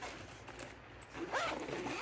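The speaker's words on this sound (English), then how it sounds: "Zip that up." A zipper drawn shut on the pocket of a bag from a USCCA welcome gift box, one close, clear pull that rises in loudness over about a second, with no talking.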